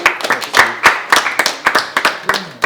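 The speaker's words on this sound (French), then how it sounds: "Et on peut applaudir le dessert." An audience at a dinner in Chambéry claps for a dessert of meringue and mandarin sorbet, with scattered, uneven handclaps close by that thin out over a few seconds.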